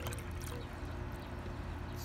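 Vinegar poured out of a container while cleaning a saxophone mouthpiece, a continuous close gurgling pour lasting a couple of seconds.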